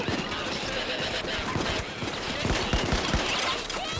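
Gunfire in the video game Payday 2, played on Deathwish difficulty, sounds as rapid repeated shots and impacts that fill the whole clip while players talk over the noise.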